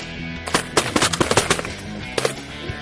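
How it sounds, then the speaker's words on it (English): Shotgun blasts during a teal duck hunt over decoys in Mississippi, a rapid volley of about a dozen sharp, loud shots from several guns firing close together. "That's solid shooting."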